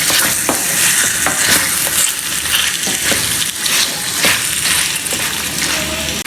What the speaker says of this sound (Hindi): अदरक और लहसुन का जो पेस्ट है इसमें कच्चापन ना रहे, अच्छी तरह से भूनेंगे